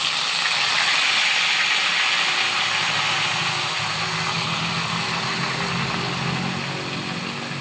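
Potatoes and spinach frying in a pan make a loud, steady hiss and sizzle of steam and hot oil, close by and continuous, easing slightly toward the end, with no talking.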